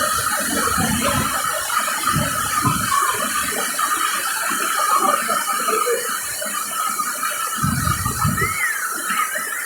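Water pours steadily from a shower falls along the hiking trail to Ditumabo Mother Falls in San Luis, Aurora, a loud continuous hiss and rush, with a couple of brief low thumps underneath.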